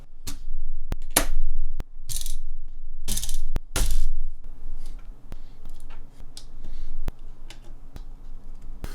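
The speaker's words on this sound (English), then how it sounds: "So now I will change the keycaps." Keycaps being pulled off and changed on a mechanical keyboard with stabilisers: sharp plastic clicks and snaps at irregular intervals, several loud, close bursts early on, then lighter ticks and rattles.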